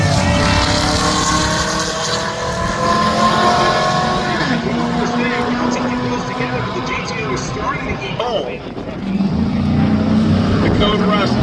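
A Camaro GT and a Fox-body drag car race at a cheap car challenge drag event, loud engine roar rising and falling with a race announcer talking over it.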